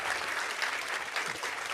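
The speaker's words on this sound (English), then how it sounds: "give him a round of applause" An audience gives a short, dense round of applause, steady clapping throughout.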